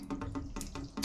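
Water drains out of a PVC pipe from pool filters in an uneven gurgling splash, pulsing roughly every quarter second, fairly quiet and close.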